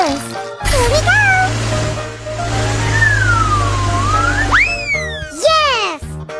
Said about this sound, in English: Ambulance! Here we go!